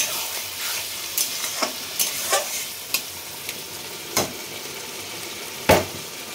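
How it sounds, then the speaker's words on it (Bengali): Poppy seed paste and ridge gourd are stirred in a frying pan, irregular scrapes and knocks of the spoon standing out over a faint sizzle. "পোস্তটা আমি একটু নেড়ে দিচ্ছি।"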